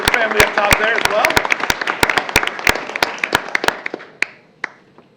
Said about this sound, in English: Round of applause for his family up top there as well.